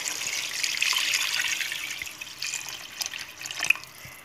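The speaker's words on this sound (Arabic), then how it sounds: "ودوكا ندير هكا 1 لتر تاع الماء" One liter of water poured into a tajine pot of frying chicken, a steady splashing, trickling stream close by that tapers off toward the end, with no talk.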